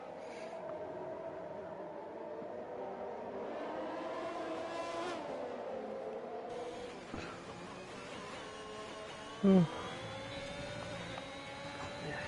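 Racing car engines drone through a video game race in Hungary, a sustained whining roar rising and shifting in pitch as cars pass, with one sharp knock partway through.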